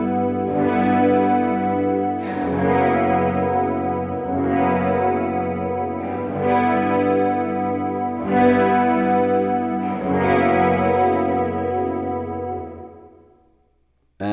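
An electric guitar runs through a modulated reverb pedal, sounding five sustained strummed chords, each ringing with shimmering, wavering wash before the next, the last one fading out alone.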